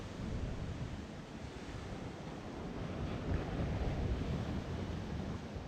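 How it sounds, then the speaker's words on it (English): Ocean surf with waves breaking where people are surfing, a steady broadband wash that swells louder midway, mixed with wind noise on the microphone and no voices. "It is a good wave. They're surfing, man."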